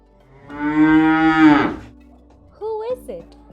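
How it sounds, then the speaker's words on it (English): A cow on a farm gives one loud, close, drawn-out moo lasting about a second, followed by a short burst of a higher voiced sound. "Cows make the sound."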